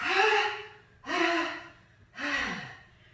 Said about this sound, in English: Big inhale, and 3 short, sharp.